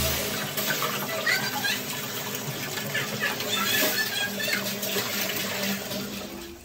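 Water runs steadily while a turtle tank is cleaned, a continuous rushing, splashing flow at moderate level with faint voices in the background.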